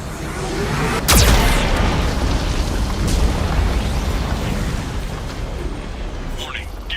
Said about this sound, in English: The VI infection has assumed control of the Geth cannon.